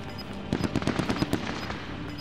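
Rapid automatic gunfire in Call of Duty: Modern Warfare, a single burst of about a dozen close, sharp shots lasting under a second, then fading into quiet game ambience.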